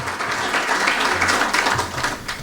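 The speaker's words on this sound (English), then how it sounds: "Let's give Ted a hearty round of applause." A breakfast crowd at a hall of fame ceremony applauds Ted, the Voice of the Monarchs, with dense steady clapping that stays loud and continuous throughout and has some voices mixed in.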